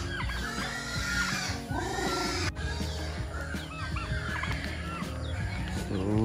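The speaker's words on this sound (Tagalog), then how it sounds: "so halo-halo, pabo, at saka mga chicken" Turkeys and chickens in a mixed flock on a farm in Cagayan, clucking and gobbling continuously, close by, several birds calling over one another.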